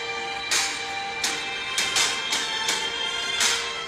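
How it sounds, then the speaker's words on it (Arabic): Victory music from the mobile game PUBG playing on a phone, a bright, dense musical passage with repeated accented swells roughly every second, fairly loud and steady, with no talk over it. "هاي صوت موسيقى الفوز."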